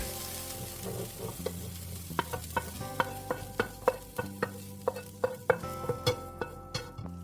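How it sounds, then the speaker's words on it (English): Onion and bell pepper sauté in a pan, a steady sizzle broken by a series of sharp clinks and scrapes as a utensil stirs them, close and alone without talk. "I'm going to saute the onion and bell pepper until they're just a little browned"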